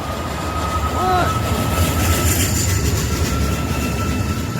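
A train rolls past in Arizona with a loud, steady rumble of wheels and cars, a short rising squeal or horn-like tone early on, and continuous clatter throughout.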